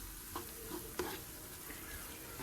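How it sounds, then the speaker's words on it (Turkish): Tomato and pepper paste sautés in a pan with a soft sizzle while a utensil stirs and scrapes it in quiet, irregular strokes. "Onu da kokusu çıkana kadar bu şekilde kavuruyorum."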